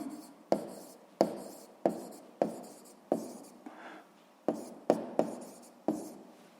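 Pen or chalk strokes writing out an equation by hand for a sixth-grade maths exercise, a series of about ten sharp taps and scratches in an uneven rhythm, close and clear with no talking.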